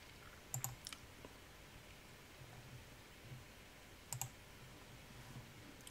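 A few quiet, sharp computer mouse clicks while editing in Adobe Premiere Pro, coming as small pairs spaced apart over a low background hiss, with no talk.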